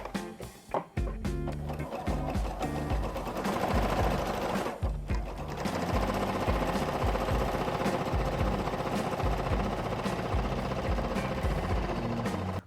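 Sewing machine stitching a dress: after a few sharp handling knocks, a close, steady rapid chatter of the needle runs continuously to the end, loud and alone.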